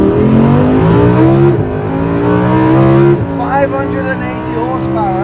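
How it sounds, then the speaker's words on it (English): A 580-horsepower supercar engine revs hard and loud with a rising, screaming tone, dropping briefly and surging again, while a person talks and exclaims over it. "And an engine that screams."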